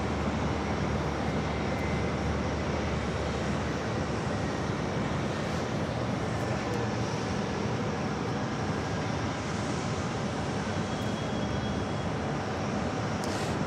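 A fixed-wing airliner passes near JFK airport, giving a steady, broad roar of jet engines under wind and no talk across the whole stretch.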